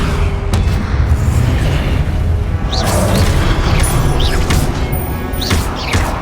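Spell blasts such as Confringo in the Hogwarts Legacy video game burst in a constant, loud barrage of booms, crashes and whooshing zaps, one on top of another with no pause.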